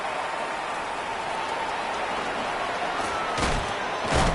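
Rain falls steadily in the Madden NFL 26 football video game, a constant hiss with a couple of louder thuds near the end, no voices.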